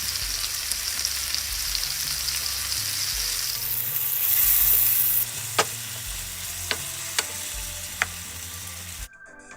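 Garlic, pepper and cumin sizzle steadily in a pan, with a continuous frying hiss and occasional sharp taps and scrapes from stirring.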